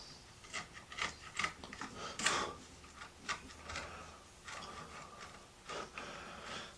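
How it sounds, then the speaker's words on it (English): A chisel is pushed into wood and twisted while hand-cutting dovetails, giving a run of short scraping, rasping strokes that are faint and close, irregularly spaced and heard alone. "instead of just pushing my chisel straight across, what I like to do is I like to push in and then twist"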